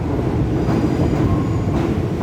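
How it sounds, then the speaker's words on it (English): A train passes near the Thames in London with a loud, continuous rolling rumble and rattling of carriages and wheels, steady throughout with faint clicking and squeal, and no voices. "Now once the train moves out of the way"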